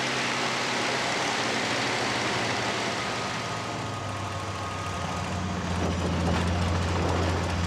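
A Spitfire's piston engine drones loud and steady with the RPM pulled back to 2,000, a thick, constant roar that shifts slightly in tone near the end.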